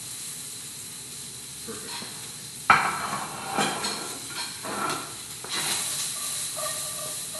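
Garlic and onions hit hot oil in a pan for a pepper bisque, giving a soft, steady hiss with occasional scrapes and clinks of a utensil against the pan; a voice speaks briefly.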